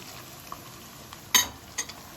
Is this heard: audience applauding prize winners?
no